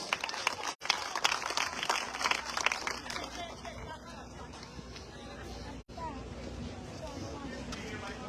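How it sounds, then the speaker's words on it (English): A crowd at a Guyanese PPP/C political rally in Dundee, Mahaicony applauds with dense, brisk clapping that thins after a few seconds into murmuring chatter and babble of many voices. "let's give Comrade Victon another round of applause"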